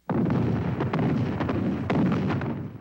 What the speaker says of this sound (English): An artillery barrage opens the attack.